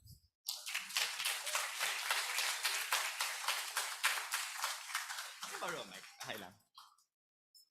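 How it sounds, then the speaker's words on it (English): An audience at a math conference applauding, a dense burst of many hands clapping that starts sharply, holds steady for several seconds, then thins out as a voice begins to speak near the end. "So let's give a round of applause to Mr."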